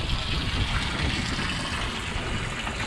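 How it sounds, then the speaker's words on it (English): Hose water runs steadily into a big outdoor water trough, a continuous close splashing rush without pause or voices. "We'll just run this hose for a while, let them all drink, fill it up"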